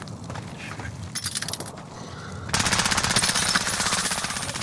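Automatic gunfire from Call of Duty Modern Warfare on Rebirth Island, light bursts early on that swell into a loud, sustained rapid rattle of shots in the second half.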